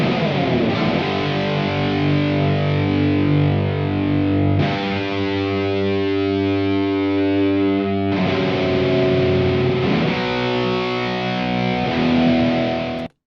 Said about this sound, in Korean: 디스토션이나 드라이브 또는 앰프에 게인을 많이 주어서 소리를 다 깨부셔버리고 나면 이런 소리가 납니다.